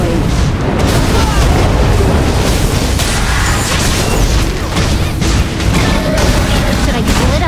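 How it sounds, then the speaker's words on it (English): Loud, dense explosion and crash effects fill a battle in the mobile game Honor of Kings as a turret is destroyed, with booming blasts continuing throughout under an announcer's voice. "Your turret has been destroyed."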